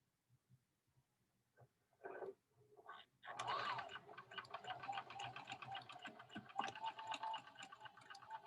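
A sewing machine stitches a straight seam on costume fabric, starting after a few quiet handling sounds and then running in a steady, close, moderately loud mechanical whir for several seconds.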